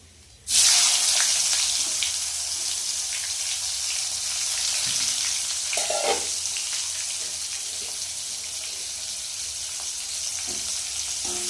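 Chopped onion hits hot oil with nigella seeds in a pan, starting with a sudden loud burst, then a steady, dense sizzle with a few faint scrapes of stirring, close up and without talk.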